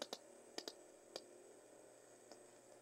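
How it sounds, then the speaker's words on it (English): Bat ultrasonic calls made audible through a bat detector: a handful of sharp, dry clicks, some in quick pairs, spaced irregularly over a steady faint hiss, quiet and close, no talk. "So the clicking you heard was actually his ultrasonic calls."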